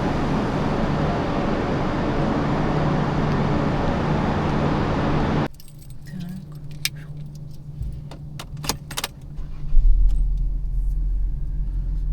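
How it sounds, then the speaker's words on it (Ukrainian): Inside a car, the engine and road rumble fill the cabin with loud steady noise at first, then drop to a quieter low drone marked by sharp clicks and rattles, with a heavier rumble building toward the end. "Моя машинка."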